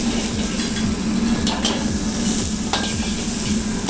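Beef with green chili and ginger fries in a hot wok for beef chili dry. A loud, steady sizzle runs throughout, and quick rhythmic scrapes of a stirring utensil repeat every fraction of a second.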